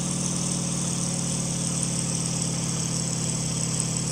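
A steady, droning aircraft engine in IL-2 Sturmovik, low and continuous at an even level on a carrier landing approach as power is eased back.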